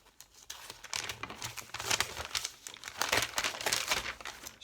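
Gift wrapping paper crinkles and crackles up close as it is pulled open, in a busy run of dense rustles and tearing bursts with no talking.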